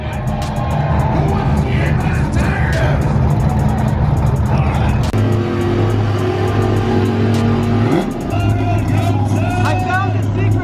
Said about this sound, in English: Matt's pressing buttons and turning the rev limiter up to like 8 grand.